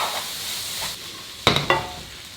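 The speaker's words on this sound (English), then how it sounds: "You give that a good mix." Singapore vermicelli is stirred and tossed in a hot pan, giving a steady sizzle and hiss with a couple of sharp clinks of utensil against metal near the end, no voices.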